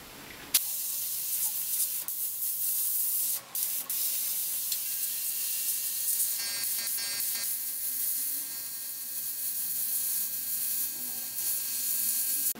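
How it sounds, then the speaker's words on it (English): Createx black paint sprays from an airbrush onto a t-shirt in a long continuous close hiss, broken by a couple of brief pauses and small clicks. "you just go and take your Kratex black and you spray out your mistake"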